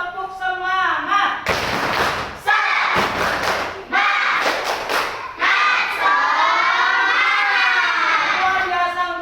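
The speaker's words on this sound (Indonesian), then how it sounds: "Tepuk semangat." Schoolchildren in a classroom lesson perform a rhythmic clapping chant together, loud bursts of claps and shouted voices alternating with a teacher's sustained voice.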